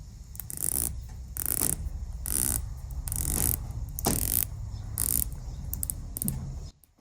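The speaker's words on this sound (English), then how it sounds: "I was positively surprised with the bezel action because it feels really nice" A Timex Deepwater Arctic dive watch bezel turns in a run of quick, close ratcheting clicks in bursts, about 120 detents per turn, crisp and mechanical with no voices over it.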